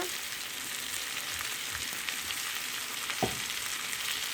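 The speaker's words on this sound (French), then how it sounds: "Maintenant, je vais rajouter la viande hachée." Minced beef sizzling in a pan with softened onions, a steady close frying hiss with faint stirring scrapes and a brief utensil tap.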